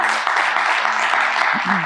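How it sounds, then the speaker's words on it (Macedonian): An audience claps loudly and steadily throughout at a live show, with a voice briefly cutting in near the end. "Луѓе, најголем аплауз за Ангел, за Моника."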